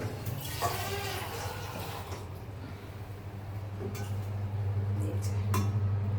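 Water pours into a cooking pot of duck meat with a rushing, rising flow over a low steady hum, and voices speak briefly at the start.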